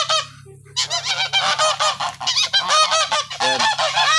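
Geese honk loudly and repeatedly nearby, a rapid noisy chorus of overlapping calls after a brief quiet start.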